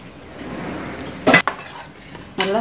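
A spoon scraping and clinking against a pot while dal makhani is stirred, with two short, sharp bursts of metallic contact over a quiet background.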